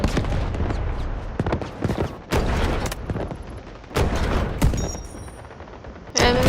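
Gunfire in the shooter game Delta Force, with dense, loud shots and heavy impacts repeating against a constant rumble of battle noise, heard during a stint on a gun turret.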